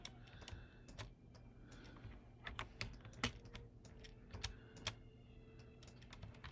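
Fingers type keyboard commands on a computer keyboard in quick irregular bursts of close, crisp clicks and taps over a low background hum, with no speech.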